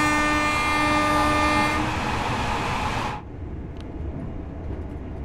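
Passenger train rushing past in the Train Sim World 5 railway game, a loud sustained roar with horn-like tones that cuts off abruptly to a quieter rumble.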